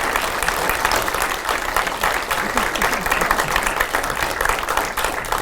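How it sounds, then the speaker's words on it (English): An audience at a community forum on local elections gives a sustained round of dense applause for public servants, loud and continuous throughout, with a murmur of voices underneath. "how about a lovely round of applause for our public servants?"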